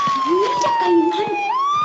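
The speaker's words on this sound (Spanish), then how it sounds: "Una ambulancia." An ambulance siren wails along a San Francisco Chinatown street, a steady electronic tone sweeping down and back up, loud and continuous with street noise and voices underneath.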